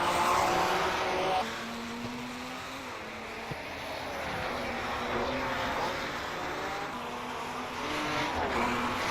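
Race cars at Ascari Ronda in a WSC70 and GT Revival race, engines droning with tire squeal and skidding as they fishtail through a corner, a steady blend of motor noise without talk.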